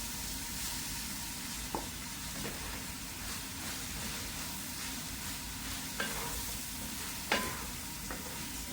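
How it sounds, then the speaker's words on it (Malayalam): Fried rice sizzles continuously in a large pan over a high flame while being stirred quickly, with a few sharp utensil scrapes and clinks rising above the steady frying hiss. "ഹൈ ഫ്ലെയിമിലല്ലേ വെച്ചേക്കുന്നത്. പെട്ടെന്ന് ഇളക്കി കൊടുക്കട്ടെ."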